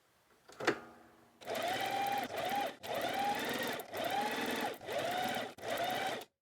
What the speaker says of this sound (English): The first thing we're going to do is to finish our edges by making a zigzag stitch along the edge.